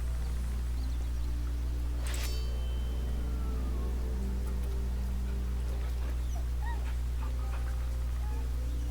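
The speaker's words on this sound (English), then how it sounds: "You always pet the dog. This was the dog that we found." A dog in the video game Baldur's Gate 3 lets out soft, faint whimpers and small yips over a steady low hum of game ambience.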